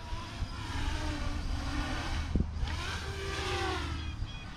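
An FPVCycle 30mm drone motor spinning heavy propellers, a steady, loud mechanical drone with shifting whines that rise and fall as the throttle changes, heard close and continuous.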